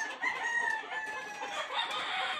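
Gamecock roosters in a farm's keeping area crow repeatedly, overlapping calls from several birds at moderate distance, with faint clucking beneath and no talk.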